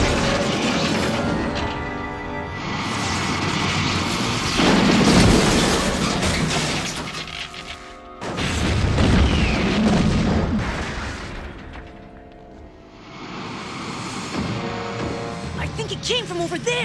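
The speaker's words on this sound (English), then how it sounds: "Retro rockets! Fire!" Cartoon retro rockets fire in long, loud roaring blasts with booming rumble, swelling and fading in several surges amid a sci-fi animated battle scene, with voices mixed in.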